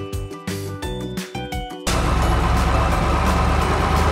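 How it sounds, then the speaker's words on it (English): A logging truck, or timber lorry, runs its engine. Choppy, gapped engine tones give way to a loud steady idling rumble for the second half. "Logging truck also called a timber lorry."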